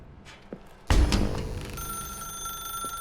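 A telephone begins ringing in The Stanley Parable after a sharp onset, a bright sustained electronic bell tone close by in a quiet room.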